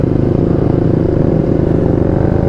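Steady running of a 125cc motorcycle engine, a dense continuous throb with a fairly even, low rumble close by and no talking over it.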